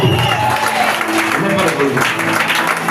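A church congregation at a French-language worship service claps and acclaims together, dense steady applause mixed with shouting voices and a speaking voice throughout, loud and close.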